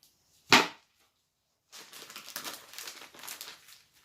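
Plastic mushroom grow bag for oyster mushrooms: a sharp crinkling burst as it is handled, then a stretch of steady rustling and snipping as clean scissors cut into it, close up with no talk.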